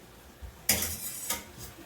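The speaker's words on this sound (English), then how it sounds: "We go straight from here into the frying pan." Cookware clatters as tuna spaghetti is tipped into a frying pan: a sharp metallic bang followed by scraping and a second clink, close and fairly loud, with no voices.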